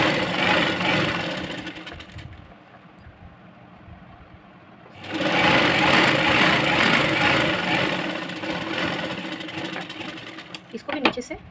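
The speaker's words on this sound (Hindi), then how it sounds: "डायरेक्ट मशीन का सिलाई लगा रही हूँ" A sewing machine stitches blouse fabric in two loud runs, whirring steadily, then pausing for a few seconds before starting again, with someone talking at times.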